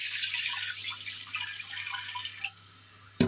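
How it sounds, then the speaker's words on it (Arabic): Water pours steadily into a pot of rice, a bright splashing stream that tapers off near the end, followed by a short clank. "راح نضيف عليه مي."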